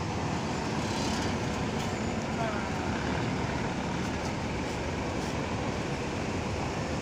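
Steady, broad traffic rumble at Kampung Rambutan bus terminal in East Jakarta at night, with a medium bus among the vehicles; engine drone and road noise fill the scene continuously, with no sharp events standing out.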